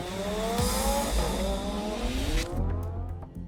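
A Lamborghini Huracan V10 supercar drives past with a loud, rising engine whine and shifting revs. A brief tyre squeal comes midway, then the engine note drops away as the car recedes.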